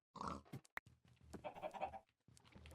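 Several short, rough Minecraft pig grunts and snorts in quick bursts, fairly close and loud, with brief pauses between them.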